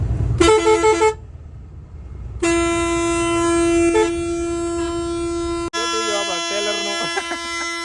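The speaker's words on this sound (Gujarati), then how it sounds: "જલ્દી કમ્પ્લેટ હોરન થઈ ગયું છે જો" A loud, close truck horn gives a short blast, then a long sustained honk, followed by another blaring horn in a slightly different tone, in jammed traffic.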